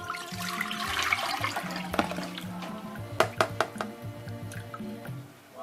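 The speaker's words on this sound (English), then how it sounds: "I'm going to strain it. I use my clean bowl with a very fine strainer." Sorrel drink is poured through a very fine strainer into a clean bowl, a close, continuous trickle and splash of liquid with a few sharp drips and taps partway through.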